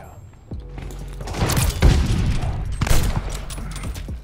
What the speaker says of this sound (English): Missed a shot. I missed another one.